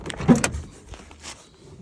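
Door of a Chevy Tahoe with a broken handle being opened in a garage: a short burst of latch clunks and rattles near the start, then a softer thump and faint shuffling noises close by.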